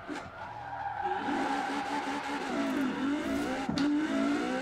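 A car in Forza Horizon 4 revs hard at very high RPM, a loud sustained engine whine with rising and falling pitch and tire skidding mixed in, steady throughout with no talk.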